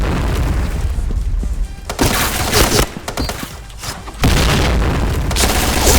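Gunfire from a new weapon being test-fired in a Thai online shooter game, loud booming bursts with sharp breaking crack-like hits filling the clip, briefly dipping around the middle before a strong burst returns.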